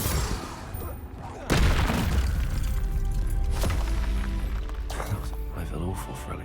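Confringo spell blasts go off in the Hogwarts Legacy video game, loud booming bursts with a sharp impact near the middle, mixed with battle noise and a voice.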